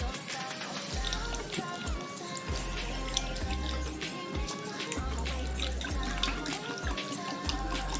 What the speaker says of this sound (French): Je vais mettre le litre d'eau.